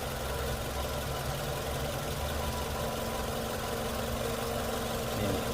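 A Toyota Camry 2.4 Q with a 2,400 cc VVT-i engine idles smoothly and steadily, a constant close mechanical hum with no talking over it.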